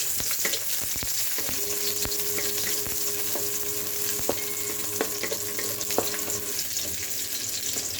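Onion drops onto garlic already frying in a pan, and a steady soft sizzle follows. Scattered spatula taps and clicks come at irregular moments. The hiss stays fairly quiet and nobody talks.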